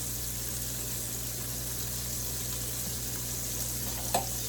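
A pan of aromatics sautéing for pasta fagioli gives off a steady, even sizzle across the whole stretch, with a single short clink near the end.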